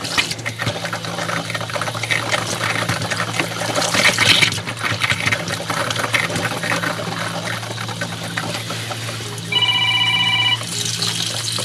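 Steady running hot water from a tap, a continuous broadband wash with a brief higher chime-like tone near the end.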